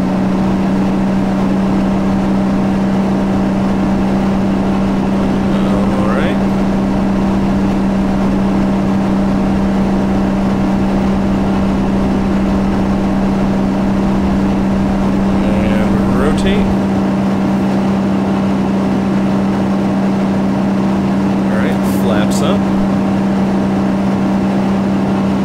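A simulated aircraft engine in X-Plane 10 throttles up to full power for takeoff, a loud, steady droning roar with a constant low hum that runs throughout.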